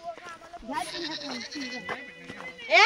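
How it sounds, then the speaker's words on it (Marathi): A goat bleats several times nearby, wavering cries rising at the end, while people talk over it. "बकरी आली."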